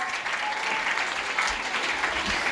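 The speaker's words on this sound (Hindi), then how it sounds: "बच्चों के लिए ताली बजती रहनी चाहिए बस।" Audience applause for young children at a school annual function and prize distribution, a steady dense clapping that holds evenly throughout without a break.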